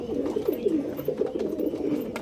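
Home-kept Kalanka pigeons coo close by in soft, repeated throaty phrases with a steady rolling rhythm.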